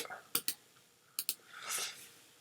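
Two quick pairs of sharp computer mouse clicks, crisp and close, spaced under a second apart, followed by a brief soft swish.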